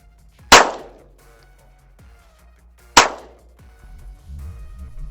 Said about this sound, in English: now we're gonna go a few shots, one-handed